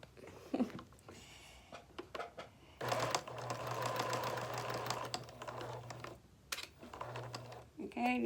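Sewing machine stitching a baby blanket with self binding, a close, steady whirring run of rapid needle strokes in two bursts, with handling clicks and rustles around them.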